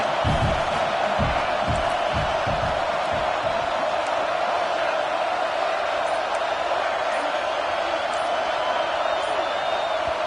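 A packed football stadium crowd roars continuously in a dense, loud wash of cheering, with a few thumping beats near the start and no break in the noise.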